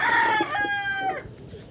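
A white Texas gamefowl rooster crows once loudly and close, a long tonal call that rises and then trails off, with faint clucking and yard noise underneath.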